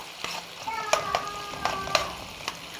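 Tomatoes frying in a pan while being stirred, with a soft steady sizzle and light scraping knocks of the utensil at irregular intervals.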